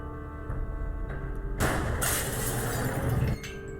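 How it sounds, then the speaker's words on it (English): Glass pane above a lab door shattering in the video game Gibbous, a sudden loud crash and spray of breaking glass over a steady background drone, then a brief second burst before it stops. "I got rid of the glass above the door to the lab."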